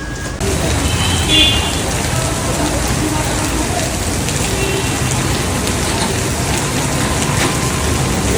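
The year's first rain pours steadily outdoors, a loud, dense, even hiss of drops on surfaces lasting throughout, with a faint voice briefly present near the start.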